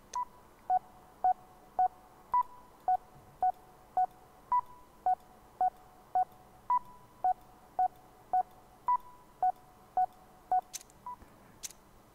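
Rhythm-calibration beat from the Metal: Hellsinger video game: clean, evenly spaced electronic beeps, about twenty in a steady pulse, with a few accented higher notes, followed by a couple of faint clicks at the end.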